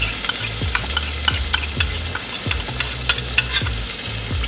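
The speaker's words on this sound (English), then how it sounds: "So we're gonna add our lamb drippings." Lamb drippings poured into a pan of gravy and stirred, giving a steady sizzle with regular scraping stir strokes close by, no voices.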